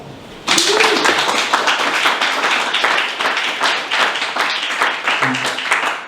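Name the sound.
audience round of applause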